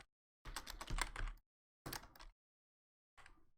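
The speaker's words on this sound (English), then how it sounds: "If we go to tcgplayer.com and we type in Nyx Lotus" Typing on a computer keyboard, three short bursts of quick close key clicks separated by brief silences, the last burst softer.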